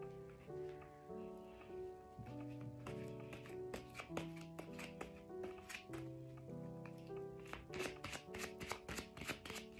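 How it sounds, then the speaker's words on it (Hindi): A deck of tarot cards is shuffled by hand, with crisp rapid flicks and riffling clicks, faint at first and growing busier over soft melodic background music, with no voices. "मैं एक बारी शफल करके कार्ड्स को पिक करना चाहूंगी"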